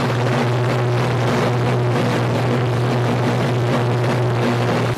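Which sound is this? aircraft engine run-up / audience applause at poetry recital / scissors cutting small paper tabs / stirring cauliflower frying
aircraft engine run-up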